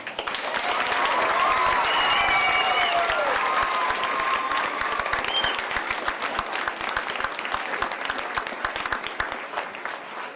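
Applause from a crowd of schoolchildren in an elementary school gathering, loud and sustained with dense clapping and some high voices, gradually thinning toward the end.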